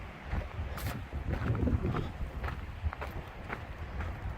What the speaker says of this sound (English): It's getting breezy up here.